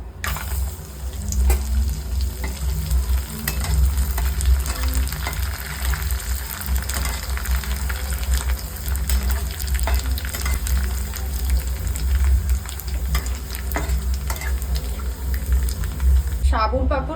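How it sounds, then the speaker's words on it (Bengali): Sago papad fries in hot oil in a wok, producing a continuous dense sizzle and bubbling hiss. The sound stays loud and close throughout, with faint clinks of handling. "সাবুর পাঁপড় ছিল, তাই ইচ্ছে হলো সাবুর পাঁপড় দিয়ে ভাত খাবো, তাই ভাজছি"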